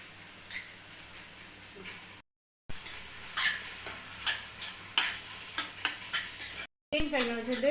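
Cabbage and egg frying in a pan, stirred in a regular rhythm of close scraping strokes over a continuous sizzle, with two brief dropouts of silence.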